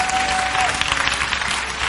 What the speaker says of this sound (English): If you believe that, clap real loud.